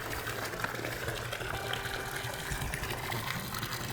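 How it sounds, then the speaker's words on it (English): An outdoor fountain gushes water at an abandoned property, a steady close rushing splash that runs without pause and with no voices. "There is a fountain over here gushing water."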